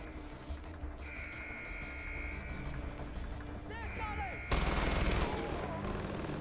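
Gunfire in the Far Cry 4 video game, with sharp bursts and a loud volley near the end, mixed with game sounds and an animal bleat, under ongoing talk.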